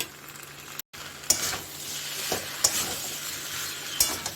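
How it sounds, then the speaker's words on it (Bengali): Pumpkin curry with sugar and salt sizzles in a pan as a spoon stirs it, with a steady broadband frying hiss broken by a brief dropout and a few sharp scrapes and clicks. "এখন আমি একটুকে নাড়িয়ে একটু ঢেকে দেবো"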